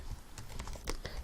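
PHP code typed on a computer keyboard, a quick, quiet run of key clicks at close range with no talking.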